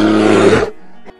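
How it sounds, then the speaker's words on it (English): A black bear gives one deep, loud, rough roar lasting over half a second, close up, then cuts off into near silence with a faint trailing grunt. "Black bear."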